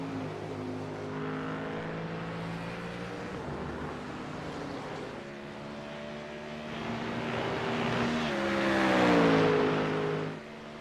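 GT3 race cars at the Red Bull Ring charge through the final turns, several engines layered together with a rising pitch that swells toward the end as they close in, steady and loud throughout.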